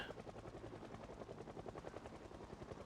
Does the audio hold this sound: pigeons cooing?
no